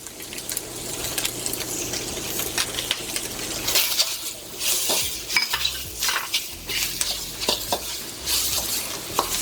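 Ginger, garlic and peppers hitting a hot pan for kung pao chicken, a busy sizzle broken by rapid metallic scraping and clinks of a utensil against the pan, close up without speech.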